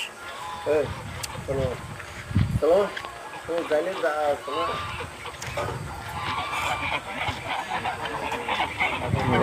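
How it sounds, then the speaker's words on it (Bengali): Geese and ducks on a farmyard beside banana and lemon trees honk repeatedly and loudly in short nasal bursts, with someone talking over them throughout. "সব হাঁস দেখেন, রাজহাঁস দেখেন"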